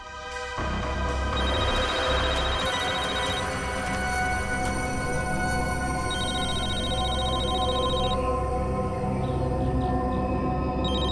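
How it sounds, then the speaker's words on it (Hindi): A phone rings steadily with a repeating electronic tone over a loud, constant hum, running throughout without speech. "उसे फोन रिंग हो रहा है।"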